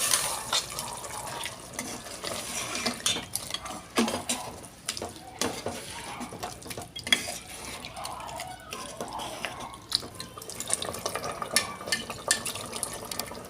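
Water splashes and pours into a pot of mutton curry with ground tomato-onion paste, amid clinks of metal utensils and stirring, moderately close and irregular.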